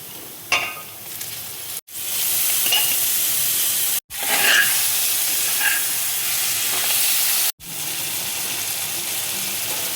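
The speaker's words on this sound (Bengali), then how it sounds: "পনির দিয়ে দেখো আমি খুব বেশি একটা ভাজবো না" Paneer sizzles steadily in a hot pan with fresh green chilli, garlic and ginger, a loud continuous frying hiss broken by a few brief stirring clatters and short pauses.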